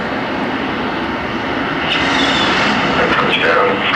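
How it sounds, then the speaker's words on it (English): Space Shuttle Discovery comes in to land on the long runway at Edwards Air Force Base in California, a steady, loud aircraft roar that swells slightly toward the end, with voices talking over it. "Commander Hartsfield will land on the long runway at Edwards Air Force Base in California."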